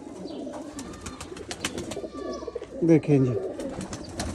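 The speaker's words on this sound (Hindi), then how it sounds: "एक चैम्पियन लिट वाला कबूतर जिसका शौक़ आपकी स्क्रीन पे इस टाइम पे मौजूद है" A pigeon coos close by, a few low rolling calls rising above background chatter, while someone speaks briefly.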